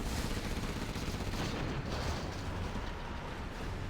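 Helix helicopter blown up in a C&C Zero Hour 1v1 battle: a dense, loud, continuous wall of explosions and gunfire-like blasts fills the whole stretch with no pauses.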